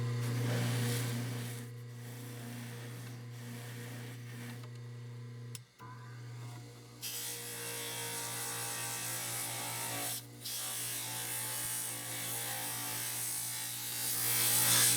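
A polishing brush on a low-speed lathe works over a denture, producing a steady motor hum with a soft, continuous rubbing and brushing texture, briefly interrupted a couple of times as the piece is lifted away, heard up close without talk.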